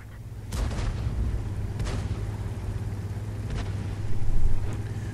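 Tank cannon fire in the online game World of Tanks, from an M6E2A1 match: several sharp booming shots at irregular intervals over a constant engine rumble, with no talk.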